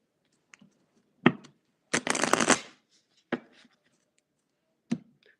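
Tarot cards are shuffled by hand: a few sharp taps and flicks around one longer, rustling riffle. The bursts are close and separated by short silences, with no talking.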